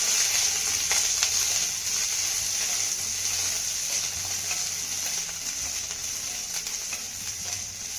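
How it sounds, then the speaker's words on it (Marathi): Peanuts, green chillies and garlic cloves dry-roasting in a pan give a steady hiss and soft sizzle, with faint scraping clicks as they are stirred, continuous and close. "यामध्ये घातलेल्या मिरच्या आणि लसूण देखील आपल्याला चांगला भाजून घ्यायचा आहे"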